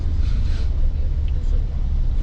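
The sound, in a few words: car driving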